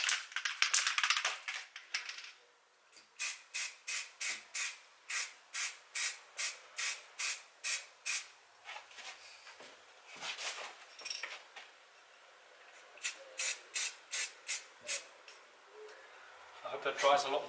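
Short bursts from an aerosol spray can painting a Mitsubishi GTO, rhythmic hissing pulses in quick runs separated by pauses, with a voice talking briefly at the start.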